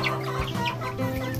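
Free-roaming Shamo chicken chicks on a farm give soft, steady clucks and peeps, close and continuous with a faint outdoor hum behind them.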